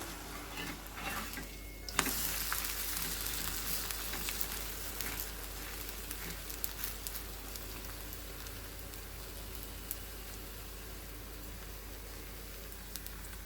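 A sweet coconut dosa cooks on a pan with a faint, continuous crackling sizzle like light rain, with one brief scrape near the start and no voices.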